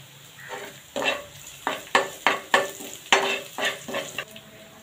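A spatula scrapes and stirs in a hot pan of oil as asafoetida goes in for a Marathi tomato bhaji, with a series of sharp rhythmic scraping strokes over a soft sizzle.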